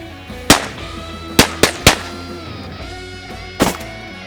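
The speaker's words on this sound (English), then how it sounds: "I gotta try this baby out, I guarantee you what a mighty fine shotgun" Four loud shotgun blasts, one near the start, a tight cluster of three in the middle and a last one near the end, each a sharp crack with a short ringing decay over a steady background hum.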